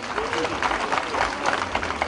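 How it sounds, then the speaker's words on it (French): Steady audience clapping at a Pentecost rosière crowning ceremony carries on briefly, with voices mixed in beneath it. "On peut applaudir aussi."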